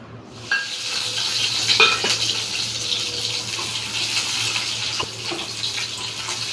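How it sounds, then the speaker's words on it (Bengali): Boiled potatoes frying in white oil in a wok for a curry, giving a steady broadband sizzle throughout with a few faint clinks and scrapes, and no talking. "আলুগুলোকে হালকা করে ভেজে নেব।"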